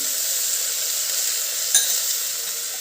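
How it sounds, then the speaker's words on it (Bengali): Mixed vegetables for pav bhaji fry in a pan with a steady, close hiss and sizzle, one brief clink of a utensil midway, no voices. "সব সবজিগুলোকে খুব ভালো করে একটু ভেজে নিয়েছি"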